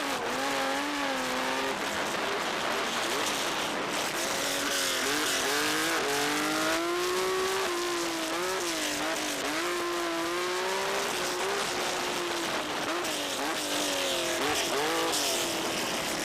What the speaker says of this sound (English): Watching an RSR doing its laps from trackside is not to be recommended, because the Porsche is the loudest car we have ever tested.